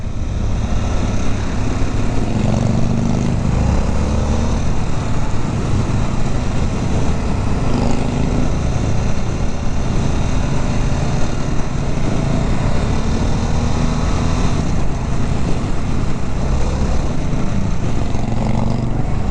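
A Harley-Davidson 1250 Sportster S engine running while riding in sixth gear around 50 mph, a loud continuous drone mixed with heavy wind rush, steady throughout with no speech.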